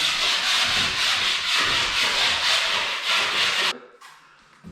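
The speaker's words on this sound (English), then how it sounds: "take our knife and just hit any high spots" Steady, loud scraping of a putty knife rubbed back and forth over spackle high spots on a hard surface, in quick strokes, then it stops abruptly.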